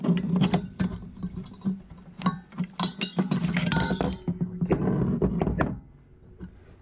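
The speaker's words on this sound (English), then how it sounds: "Now I can probably get my pliers and cut it." Pliers snipping and working at a salvaged microwave magnetron, a run of sharp metallic clicks, clinks and thunks in an irregular rhythm, close and fairly loud, ending in a quieter stretch.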